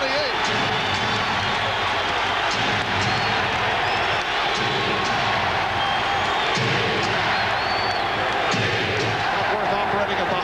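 A basketball arena crowd chanting for defense during a 1992 NBA Finals game between the Chicago Bulls and Portland Trail Blazers, a steady loud roar under continuous commentary.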